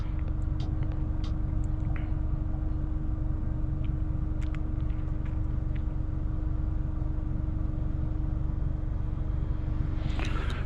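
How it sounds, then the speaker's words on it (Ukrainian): A steady low whooshing hum fills the cabin of a 2012 Mitsubishi Lancer 1.6 as the air conditioner blows, constant and moderately quiet with a few faint clicks. "з включеним кондиціонером, який дує, який трішечки там шумить"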